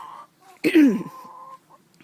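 Chicken cackles and clucks close by, a short burst of squawky calls at mid-clip, then a thin sustained tone fading out.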